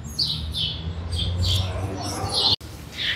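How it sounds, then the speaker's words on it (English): Birds chirp up in the rafters of a Lowe's store garden area, giving short, sharp tweets roughly every half second over a low indoor hum. "there's a lot of birds in the rafters"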